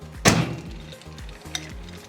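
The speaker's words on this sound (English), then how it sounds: "we are going to give it a stir" A spoon stirs a melted mixture in a microwave-safe bowl for Easter popcorn, giving one loud scrape near the start and a few softer scrapes and clinks after it, with no talking.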